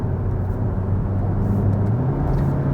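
Skoda Superb performance sleeper car driving in the rain, heard from inside the cabin as a steady, loud low engine and road drone with continuous tyre and wet-road rush.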